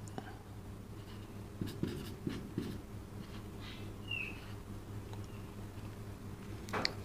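A pen scratches out a formula by hand on paper in a quiet room, short scribbling strokes in small clusters, faint and close, over a steady low hum.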